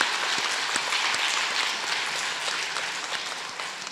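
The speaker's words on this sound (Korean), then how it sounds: "박수 한번 칠까요?" A church congregation claps continuously in a dense, steady wash of applause that fills the whole moment at an even loudness.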